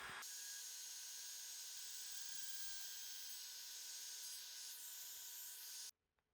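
A high, steady whine of a router cutting a notch in epoxy, running continuously for about six seconds, then stopping abruptly.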